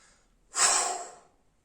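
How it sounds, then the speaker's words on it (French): A single forceful breath pushed out through the mouth during a sophrology relaxation exercise, a close, breathy rush that swells quickly and then tapers away over about a second, with quiet before and after. "dès que ça deviendra inconfortable pour vous, on expirera fortement"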